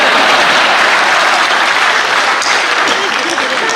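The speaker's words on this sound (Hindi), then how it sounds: "फिर आपकी तालियां उठनी चाहिए।" Applause from a comedy show audience rolls loud and continuous for a few seconds, a dense crowd clapping without pause.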